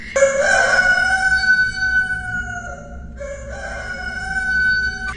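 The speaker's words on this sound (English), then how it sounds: "her running out the door while the rooster's going off, just so you can hear how intense it is" A rooster-crowing alarm clock sound from alarmclock.com, playing as two loud, close, drawn-out electronic crows, each a long strained call, with a brief gap between them and no talk.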